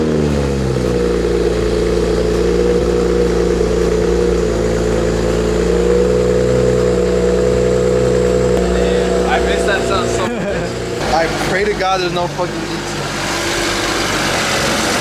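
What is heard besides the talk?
BMW 335i engine cold start after water pump replacement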